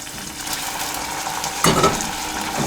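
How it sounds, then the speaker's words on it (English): Oil crackles and hisses steadily in a pan, with a sharper burst of sizzling partway through as homemade vegan ravioli drops in, plus faint utensil stirring. "Oh, listen to that sizzle."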